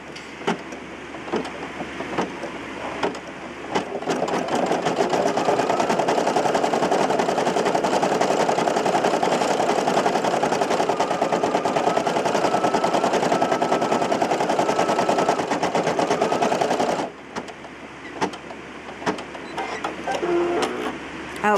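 Brother PE800 embroidery machine stitching, a fast, steady mechanical rattle and whir that starts quietly, grows loud and continuous for about twelve seconds, briefly stops, then resumes.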